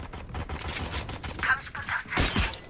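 Gunfire in the tactical shooter Valorant cracks in rapid, uneven bursts with a shattering impact near the end, while players talk over the action.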